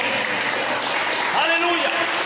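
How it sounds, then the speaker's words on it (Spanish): Church congregation applauding in praise, dense steady clapping filling the whole moment with a voice calling out over it partway through. "denle un aplauso al Señor"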